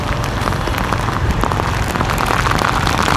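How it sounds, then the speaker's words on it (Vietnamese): Heavy storm rain falls steadily on surfaces in Saigon, a dense, loud, unbroken wash of drops with occasional louder spatters. "Nhìn ra cửa sổ thấy cảnh khổ người đi mưa, vật lộn với cơn mưa"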